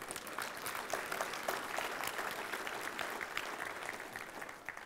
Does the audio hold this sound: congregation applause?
yes